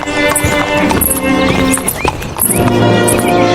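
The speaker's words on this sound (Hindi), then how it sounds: "राजकुमार अपने घोड़े पर सवार हो जाता है" A cartoon horse is mounted and ridden: loud, rhythmic clip-clop hoofbeats with a neigh, set against a busy, music-filled soundtrack throughout.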